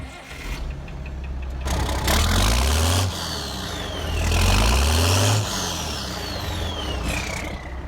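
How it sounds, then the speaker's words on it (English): A 1086 tractor engine cranks and rumbles to life with repeated low revving surges, running roughly and loudly nearby. "Now to start this tractor, I'm going to take the throttle, put it on, press the clutch in"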